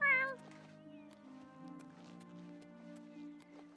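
A person imitates a cat, voicing a short series of drawn-out, harmonic meows that start loud and trail into softer, wavering mewing sounds, heard alone without other talk.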